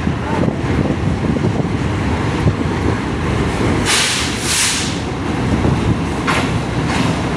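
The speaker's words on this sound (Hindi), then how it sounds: "यहाँ पर अरावल हो रहा है 13 अवामा एक्सप्रेस का" A Pakistan Railways Awam Express train pulls into Lahore Junction station, a steady, loud rolling rumble of wheels and carriages with brief hissing bursts partway through and no voices.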